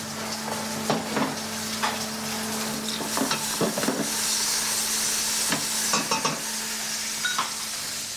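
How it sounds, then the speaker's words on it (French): Chopped onions sautéing in a pan as the base for moules marinière: a steady close sizzle with intermittent scraping stirs and utensil clicks, no one speaking. "Une fois qu'on a fait revenir un peu les oignons"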